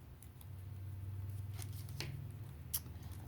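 Scissors snipping through acetate card for an Easter card project, a few quiet cuts and rustles over a low steady hum, with no talking.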